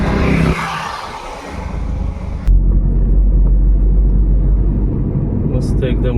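A car drives along a green, tree-lined road toward the Global Vipassana Pagoda in Mumbai, giving a steady close engine and road rumble that swells partway through, with people talking over it.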